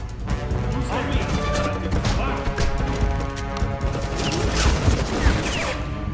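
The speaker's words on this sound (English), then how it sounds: "Gunfire." Gunfire in the video game CounterSpy, rapid bursts of shots and crashing impacts forming a dense continuous fusillade, with voices talking over the action.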